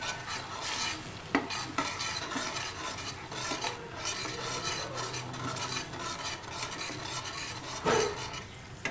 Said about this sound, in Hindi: लहसुन अदरक का पेस्ट डालने के बाद हम अच्छे से मिक्स करेंगे